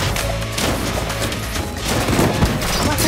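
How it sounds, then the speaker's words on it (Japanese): Continuous gunfire in the Blue Archive game, a dense, steady stream of rapid shots and thumps that holds loud and unbroken from start to finish, with no gaps. "連続射撃いきます。"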